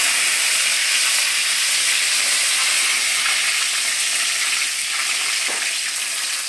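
Curry leaves frying in hot oil for rasam, a steady bright sizzle and hiss held close and loud throughout, with no speech.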